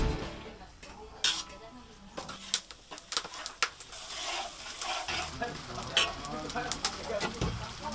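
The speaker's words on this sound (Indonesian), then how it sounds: "Bumbu kemudian ditumis." A spice paste of chili, shallots and garlic sautés in a pan, crackling and sizzling under irregular clinks and scrapes of a spatula against the cookware, fairly close.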